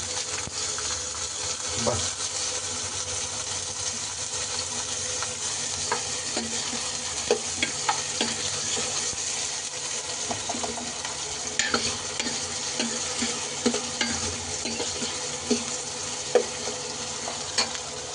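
Chopped onions fry in hot oil in a home kitchen pan, a steady low sizzle broken by occasional scraping stirs and clinks, close and fairly quiet with no talking.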